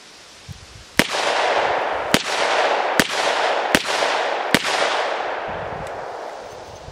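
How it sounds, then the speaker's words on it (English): A Ruger SP101 revolver fires full-size .357 Magnum Hornady Critical Defense rounds: five sharp, loud reports at roughly even intervals, each trailing into a long outdoor echo, with no talk. "We're shooting Hornady Critical Defense, full size 357 Magnums out of the SP101"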